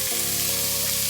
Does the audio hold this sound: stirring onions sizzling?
yes